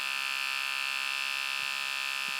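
Modified electric razor used to imitate the whir of a running film reel, a steady close buzzing drone with a couple of faint low knocks near the end.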